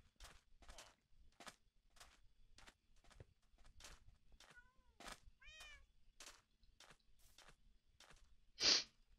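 Cats in a video game village meow one after another in a steady, evenly spaced series of soft calls, with a few chirping trills partway through and a louder burst near the end.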